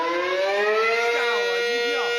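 An air raid siren wails through Taiwan streets, loud and sustained, its rich harmonic tone holding steady before dipping and rising again in pitch.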